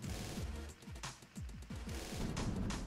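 Bomb blasts in a video game: a loud, dense run of repeated low booming bursts and rumbling explosions, heavy and continuous throughout.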